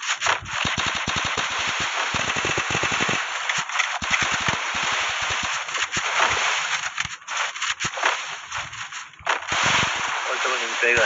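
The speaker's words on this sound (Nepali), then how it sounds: "ठ्याक्कै गोली छुटिहाल्यो क्या त" Gunshots ring out in rapid bursts and scattered single cracks, sharp and loud against a steady hissing background over several seconds.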